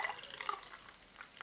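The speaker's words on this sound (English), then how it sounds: "Try and give it an aggressive pour," Broughton Santa Stout beer is poured hard into a glass, producing a brief, faint splashing trickle with no speech.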